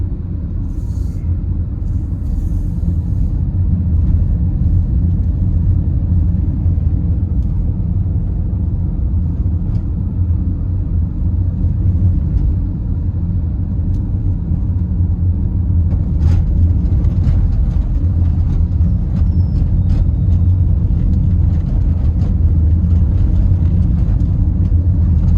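Steady, loud road traffic rumbles along a street in Santa Cruz, St. Elizabeth, Jamaica, with engines droning continuously and vehicles passing close by throughout, no clear pauses.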